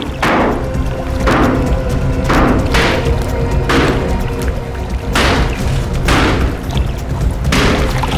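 A water tank is broken open with about seven heavy, evenly spaced blows, each a loud close thud with a crashing edge, over a constant rumbling background.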